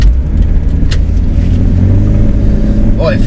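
A right-hand-drive Jeep Cherokee rolls slowly through a tight hairpin corner, its engine a steady low drone heard from inside the cabin, with a brief whine near the end.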